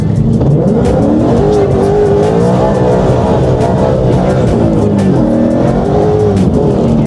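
A Ford Mustang drifting on a wet, rainy road, heard from inside as a loud, continuous engine drone that rises and falls with revving throughout.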